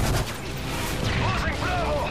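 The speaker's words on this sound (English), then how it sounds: "Friendly Predator missile inbound." Heavy explosive blasts and rumbling gunfire in Modern Warfare 3 during a Predator missile strike, dense and loud with overlapping booms and chatter of battle throughout.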